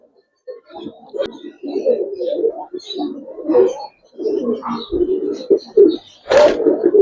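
Bagha pigeons coo close by in a string of throaty, rolling calls with short pauses between them, plus a sharp clatter near the end.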